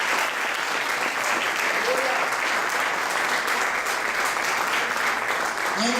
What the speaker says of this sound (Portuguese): Vamos dar uma salva de palmas para esse Deus.